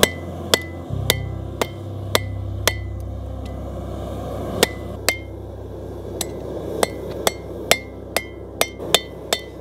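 A cross peen hammer strikes hot steel on an anvil while a blacksmith forges a leaf, giving sharp, ringing blows that come irregularly and then faster, over a low steady hum.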